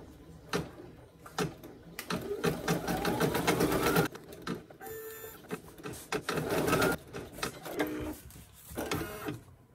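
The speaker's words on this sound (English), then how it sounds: "stitching the little circles that are going to be the placement for your snaps, and that also provides tack down for this felt" An embroidery sewing machine stitches snap placement circles into felt in the hoop, a loud close rapid needle chatter with mechanical whirring that pauses briefly and restarts in bursts.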